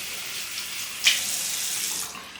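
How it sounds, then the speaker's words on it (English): Water sprayed or splashed onto hair while styling natural hair with gel into a sleek low bun, a steady hissy wash of water with one brief sharper spurt, close and alone. "I'm going to apply just a little bit of water to my hair"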